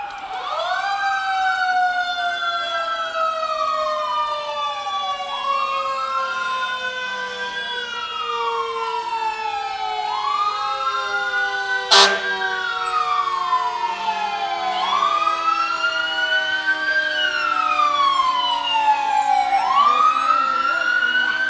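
A fire engine from Rockwood, City of Kingston, wails its siren in a Christmas parade, a loud steady rising-and-falling tone that holds close throughout, with one sharp burst partway through.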